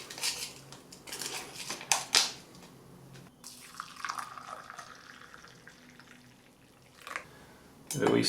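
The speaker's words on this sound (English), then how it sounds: "Give it a wee stir." A heated Swedish combat ration meal is stirred in its pouch or pot, giving close rustling, scraping and clinking strokes of uneven rhythm, with brief talk around the stirring.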